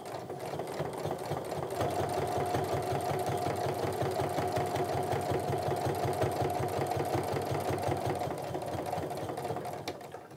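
A sewing machine stitches across a tote bag with a steady, fast mechanical whir and rhythmic needle chatter, running close and continuously for about ten seconds with no talk.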